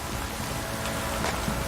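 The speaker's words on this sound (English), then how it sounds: "This downpour's a bastard, it is." Heavy rain in The Witcher 3: Wild Hunt pours down in a steady, noisy hiss, with a few louder splashes near the end.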